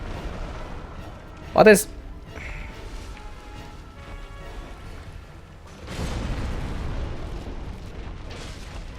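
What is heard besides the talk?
explosions in the video game Dark Souls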